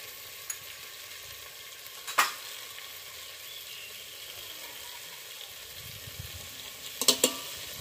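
Ghee sizzles steadily and faintly in a pan of dried brinjal curry being fried, a soft continuous crackle broken by a few sharp clinks of a stirring spoon.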